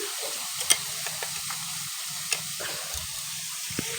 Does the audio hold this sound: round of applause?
no